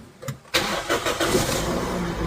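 A car engine cranks and catches after a brief quiet moment, settling into a steady, loud, close running note on a car with electric power steering.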